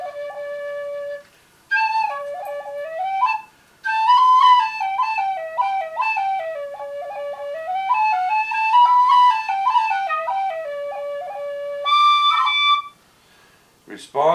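A bronze and gidgee wood whistle made by Oz in Australia plays a lively melody of clear, bright notes, heard up close and alone, with two short pauses for breath and a final quick trill.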